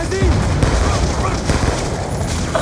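Soldiers fire guns in Call of Duty Black Ops 2, producing dense bursts of gunfire and booming impacts in a short, loud, chaotic stretch, with a voice partly mixed in.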